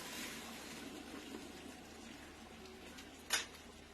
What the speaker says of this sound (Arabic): هنا دلوقتي معايا ميه مغليه، هبتدي احط كده زي ما انتم شايفين.